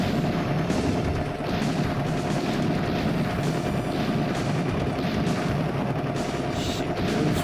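Continuous rapid gunfire and explosions from the arcade helicopter shooter Metal Hawk, a dense, steady barrage of shots and booms layered over game music with no pauses.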